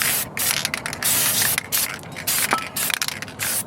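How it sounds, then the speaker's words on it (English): Aerosol spray can hissing onto a 2001 Buick LeSabre front wheel hub during bearing replacement, in several close bursts separated by short pauses, with no voices. "I'm going to just go ahead and spray this again."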